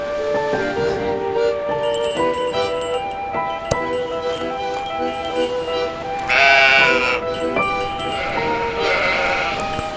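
Sheep bleat in the video game Old Man's Journey, several calls rising over a bright tonal music bed with chiming notes, one louder bleat near the middle.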